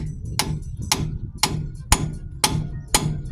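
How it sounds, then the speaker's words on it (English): Seven sharp metallic taps from a ball peen hammer striking a brake caliper part come in an even rhythm about half a second apart, close and loud, with no talking. "just grab your little ball peen hammer, go right there."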